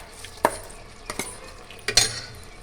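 A spoon stirs washed rice and vegetables together in a pan for veg pulao. Three short, close scrapes and clinks sound against a faint background, each stroke brief and separate.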